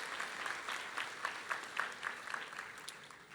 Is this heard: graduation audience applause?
yes